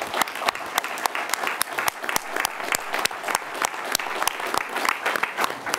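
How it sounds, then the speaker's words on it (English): A modest audience gives a round of applause for a discussion panel. Individual claps stand out sharply over a steady background patter, loud and even throughout. "If we could just have a round of applause for the panel."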